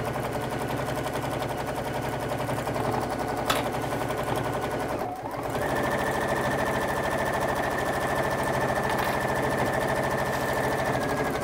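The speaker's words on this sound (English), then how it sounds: "Philip is saying, which machine are you using today and what are the beauties of this one? So this is the lovely DX. This is the DX7." A DX7 sewing machine runs steadily for most of the stretch, its rapid needle chatter dense and close, with a brief stop and a shift to a higher, smoother whir partway through.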